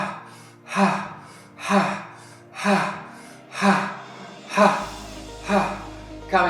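Intense rhythmic breathing exercise in a guided energy-pumping session: seven strong, evenly spaced breaths roughly every 0.9 seconds, close and loud, over a steady low musical drone.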